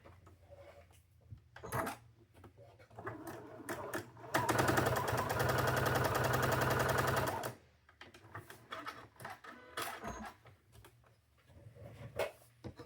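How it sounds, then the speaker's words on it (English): Sewing machine stitching along a folded sew line on quilting fabric for a chicken block, one steady run of about three seconds in the middle, loud and close, with quieter handling clicks and rustles before and after. "we're going to sew it"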